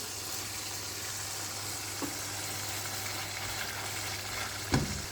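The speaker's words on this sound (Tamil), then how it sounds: "இந்த எண்ணெயெல்லாம் பிரிஞ்சு வர வரைக்கும் இதை நல்லா வதக்கிக்குங்க" Oil sizzling steadily in a pan as food sautés until the oil separates, a continuous hiss broken by a couple of light utensil taps, with no talking.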